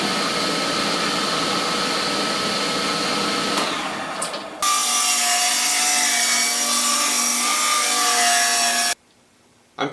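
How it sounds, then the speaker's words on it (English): A 40-plus-year-old table saw runs with a steady motor whine, its pitch shifting as the blade bites into wood for a loud few seconds of cutting, then the machine cuts off abruptly near the end. "This is a 40-plus-year-old table saw"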